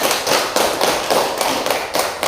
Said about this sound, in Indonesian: Berikan dulu aplaus kepada Munibah